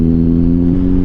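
Steady mid-pitched hum of a motorcycle engine cruising smoothly along a winding uphill road in Pililla, Rizal, loud and close, holding an even tone with a slight shift near the end, no talking.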